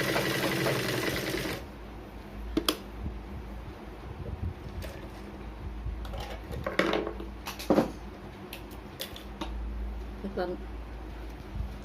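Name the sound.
sewing machine stitching blouse lining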